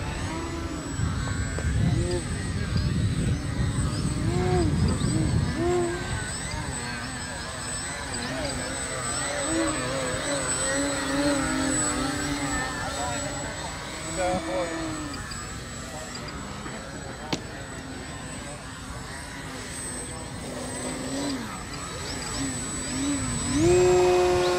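A QQ Extra 300 electric RC model airplane flies at a fly-in event, its motor whining and rising and falling as it passes, heard under steady talk.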